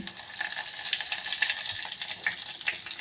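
Mustard seeds and cumin sizzle in hot oil in a heated pot for a South Indian tempering, a dense, close crackle with rapid tiny pops over a continuous frying hiss.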